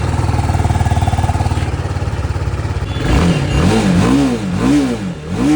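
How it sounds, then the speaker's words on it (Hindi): A motorcycle engine starts with a steady, rapid idle chug, then is revved several times, each rising and falling sweep close and loud, with no voices. "बाइक को स्टार्ट करने पे जो आवाज़ आती है ना, मज़ा आ जाता है।"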